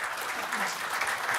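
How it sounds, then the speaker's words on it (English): Audience applause after a technical conference presentation on live-streaming technology, a short steady wash of clapping that fills the moment without pause. "first a round of applause"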